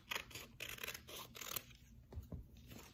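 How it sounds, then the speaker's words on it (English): Scissors trim around a circle of water-soluble embroidery stabilizer in a run of quiet, close snips and rustles that pause briefly midway, with no talking. "I'm gonna cut around the circle."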